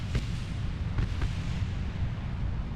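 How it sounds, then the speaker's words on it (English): Explosions in the video game Kerbal Space Program: several short booming bursts over a low continuous rumble, with distinct hits near the start and around the one-second mark. "Those explosions didn't sound good."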